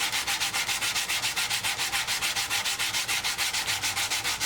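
Rustic locust wood bowl being sanded by hand, a steady back-and-forth rasp repeating in quick even strokes, close and alone.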